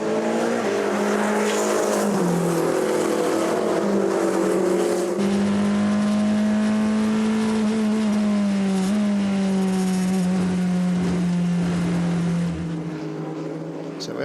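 Hypercar race cars out on track during WEC qualifying at São Paulo, engines loud and close, pitch rising and falling as they accelerate and pass, continuous throughout with faint background noise.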